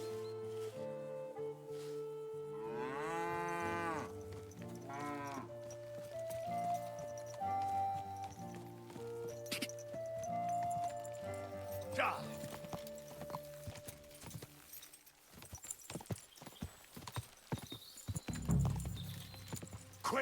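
Horse in the medieval role-playing game Kingdom Come: Deliverance, hooves clip-clopping with an occasional whinny, mixed with game music and effects, while someone talks over it.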